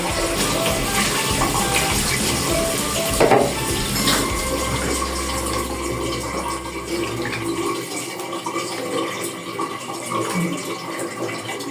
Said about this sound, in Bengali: আমি পানি দিয়ে দিব।